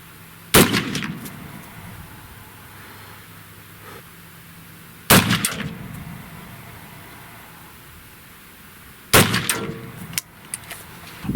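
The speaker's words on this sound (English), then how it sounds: "let's shoot another group and see if we can do better" Three sharp rifle shots at a target group, spaced several seconds apart, each a loud close crack with a brief echoing tail over a quiet hiss of background.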